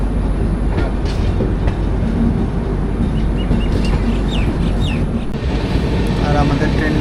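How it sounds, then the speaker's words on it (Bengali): The Padatik Express, train 12377, runs at speed with a loud, steady rumble and rattle from inside the carriage, punctuated by faint rhythmic wheel clicks and brief squeals. "আর আমাদের ট্রেন কিন্তু এখন বেশ ভালো স্পিডেই যাচ্ছে"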